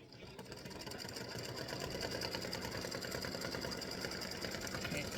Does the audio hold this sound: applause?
no